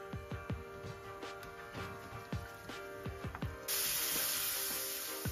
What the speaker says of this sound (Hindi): अब इसको क्रैकल होने देंगे थोड़ा सा और फिर इसमें डालेंगे हींग।